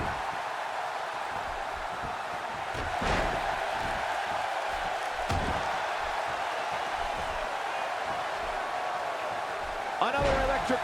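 Steady roar of a large wrestling arena crowd at a WWE SmackDown main event, a continuous loud wash of voices with a few sharper swells and thuds, running under ringside commentary throughout.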